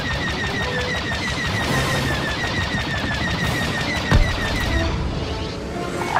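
Blaster fire rattles through a battle at Endor in Star Wars Battlefront II, rapid repeated laser shots in a steady stream over dense combat noise, with a heavier thud near the end.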